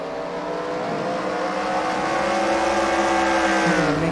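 Race cars on an oval track at the Dynamite Nationals, including the number 33 car, roar loudly and close by, their engine howl climbing steadily in pitch.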